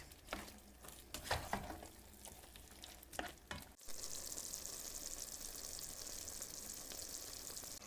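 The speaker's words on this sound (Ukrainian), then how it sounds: "Солимо. перчимо і обсмажуємо до легкої рум'яності." Salted and peppered eggplant in a pan, with stirring clatter at first, then a steady loud sizzle of frying that continues alone to the end.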